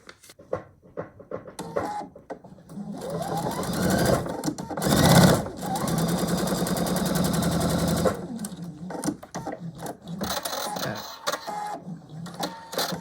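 A sewing machine stitches a quilt block seam in quick bursts, its rapid mechanical whirr starting and stopping several times, loudest in the middle run, with brief handling noises between.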